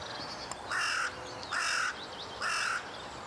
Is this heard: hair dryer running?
no